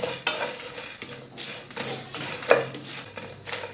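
Cumin seeds dry-roasting in a pan over a medium flame while being stirred for garam masala, giving soft scraping and rustling strokes with occasional light clinks, fairly close and without speech.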